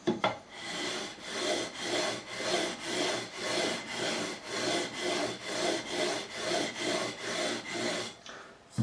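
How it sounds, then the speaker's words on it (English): Levelling beam sanding the frets on a Harley Benton Custom Line SC P90 single-cut electric guitar, about sixteen steady rhythmic back-and-forth abrasive strokes, close and fairly loud, with no voices. "I'm just going to finish off again with the levelling beam."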